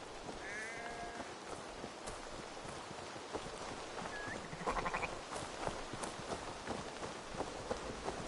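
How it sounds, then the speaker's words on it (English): Sheep bleat a few times in the video game Assassin's Creed Valhalla, following a whistle, over a busy background of footsteps and clatter, with short high whistle-like tones in between. "The sheep follows my whistle."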